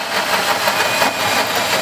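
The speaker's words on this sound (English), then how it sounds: "The little heater engine runs off diesel." A small diesel-fuelled heater runs inside a van in -41 degree cold, producing a steady close whooshing roar with an even, unbroken drone.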